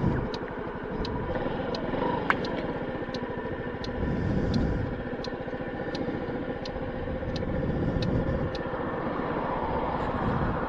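A Honda Ruckus scooter rides through a quiet neighborhood on a hot day, its small engine giving a steady mid-pitched drone with wind rush and a faint ticking, continuous and close for the whole stretch.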